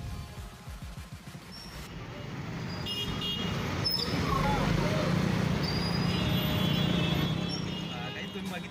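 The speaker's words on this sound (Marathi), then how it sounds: "बघितलं असेल किती झाली ट्रॉफिक होती." Busy road traffic, with a steady roadway rumble of passing cars and heavier vehicles building to a dense wash, faint horn toots, and voices talking over it.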